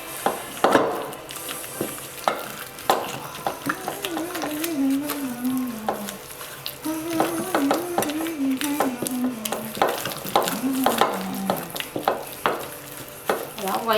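A spoon stirs and scrapes a thick pumpkin seed paste mixed with crushed chili and shallot in a pot, with repeated wet clacks and scraping strokes while someone talks throughout.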